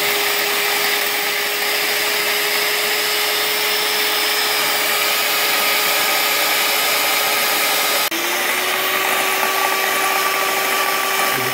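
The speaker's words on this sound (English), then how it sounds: "little blender with one little thing in there." A small handheld blender whips heavy whipping cream for coffee, a steady, close, high-pitched motor whine held throughout, its pitch shifting slightly partway through as the cream thickens.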